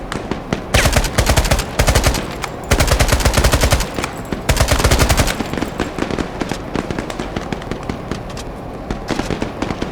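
Heavy automatic gunfire in a war video game rattles in long, loud bursts, rapid shots packed tightly together, then continues as a denser, more scattered stream of firing for the rest of the stretch.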